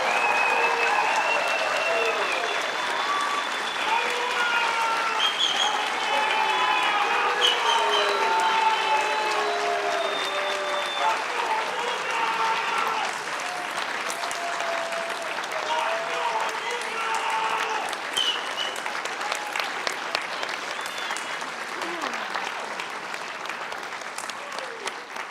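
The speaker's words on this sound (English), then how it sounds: "Ladies and gentlemen, please give a round of applause for ICO's" An audience at a white coat ceremony applauds the graduating class of 2026 with sustained, full clapping and some cheering. The applause holds steady for a long stretch while voices carry over it.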